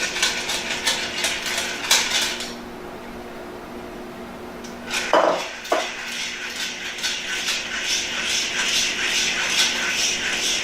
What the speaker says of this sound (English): we're just going to whisk this as we put it in